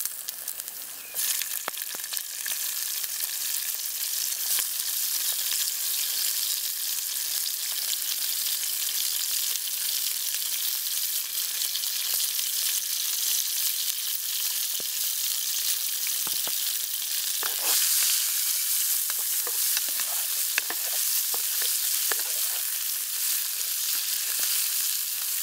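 Chorizo and shrimp sizzle steadily in a hot pan at a campsite, a continuous loud frying hiss with occasional pops and crackles and some stirring clatter.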